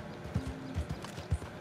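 Horse hooves in Red Dead Redemption 2 make a few soft clip-clop steps at an uneven pace, fairly quiet and close, over a low background.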